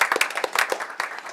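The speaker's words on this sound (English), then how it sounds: "A round of applause for our panelists." An audience applauds panelists at a session on electricity markets and ratemaking, brisk dense clapping from a crowd, close and fairly loud throughout.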